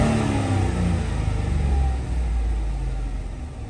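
A 2007 Chevrolet Tahoe engine runs steadily with a broad low rumble and mild variation in pitch, close and continuous with no voices.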